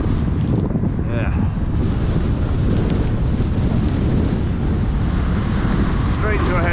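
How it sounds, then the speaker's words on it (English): A cyclist rides into a strong headwind on a road out of Belfast near the airport, and loud, constant wind buffeting roars across the microphone throughout. Brief voice fragments are barely audible beneath the rumble. "Straight to a headwind."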